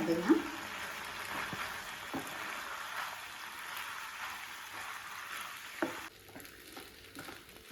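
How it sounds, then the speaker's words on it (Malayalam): Chicken macaroni being stirred through thickening gravy in a pan over a low flame, with a soft, steady sizzle and occasional scraping spoon strokes throughout, and a slightly quieter stretch near the end. "ഫ്ലെയിം കുറച്ച് വെച്ചതിന് ശേഷം കുറച്ച് കുറച്ചായിട്ട് ഇങ്ങനെ ഇളക്കി യോജിപ്പിച്ച് നന്നായിട്ട് യോജിപ്പിച്ചെടുക്കണം"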